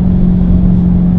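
A Lamborghini Urus sports SUV with a Novitec exhaust system and X-pipe rumbles close and loud, a deep, steady engine drone with a strong low tone throughout the short stretch.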